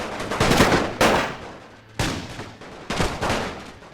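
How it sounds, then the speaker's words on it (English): Gunfire in the video game The Great War, four loud, sharp bursts about a second apart, each ringing out and fading before the next. "So the white movement units getting shot down."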